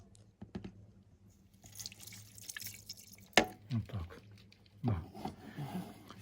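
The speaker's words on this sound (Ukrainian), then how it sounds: "Додаємо е, льодяної води." Ice water is poured into a brine mixture for homemade ham, giving close, intermittent splashing and trickling pours with brief quiet gaps between them.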